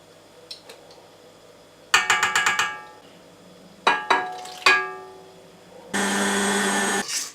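An electric mixer beats cake batter in a short, loud, steady whirring burst. Sharp ringing clanks and taps come before it, close by, with no talking.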